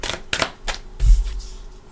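Tarot deck of the Luminous Tarot for the Divine Feminine being shuffled by hand, several quick papery riffles and taps close up, with a soft thump partway through.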